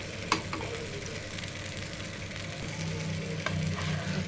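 Masala dosa batter with finely chopped curry leaves sizzles steadily on a hot pan, a continuous soft frying hiss with a few faint clinks, close and with no talking.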